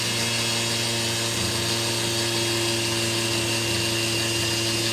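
A power tool motor runs continuously on a nearly flat lithium-ion battery, a loud, steady whine with strong harmonic hum that holds close and unbroken throughout.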